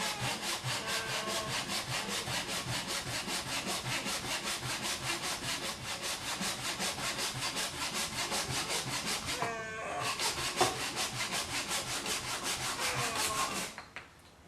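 A hand saw rips along the grain of a timber workpiece for a pencil box end, with steady rapid back-and-forth strokes that are close and continuous, a brief slip partway through, then the sawing stops near the end.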